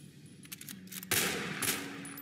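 Gunfire in the video game SULFUR: a few quick, faint shots followed by a louder burst that rings out and trails off, with no talk.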